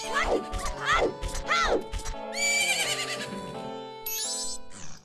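A horse in the video game Majora's Mask neighs three times in quick succession, with loud rising and falling whinnies. A brighter game sound effect and chiming tones follow the neighs.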